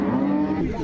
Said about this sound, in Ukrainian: корови ривуть